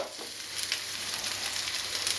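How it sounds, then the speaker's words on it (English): Onions sizzle and crackle in a hot pan for a Thai green curry, a soft steady frying hiss with occasional stirring scrapes. "now while that's frying off a bit"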